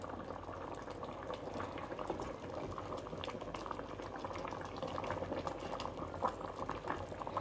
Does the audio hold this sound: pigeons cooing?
no